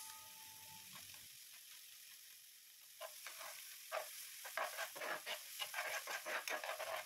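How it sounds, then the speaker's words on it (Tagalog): Garlic and onion sauté in hot oil for chicken bopis, a soft sizzle that swells into busier crackling and stirring scrapes in the second half, with no voices. "Mag-start na tayo mag-gisa ng ating mga bawang at ng ating sibuyas."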